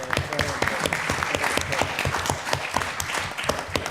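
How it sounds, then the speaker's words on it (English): Conference audience giving a brief round of applause, moderately loud dense clapping that holds steady for a few seconds with no talk. "I think a round of applause for these people out"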